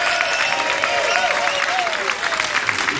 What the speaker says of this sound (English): give those lovely ladies from tennis a round of applause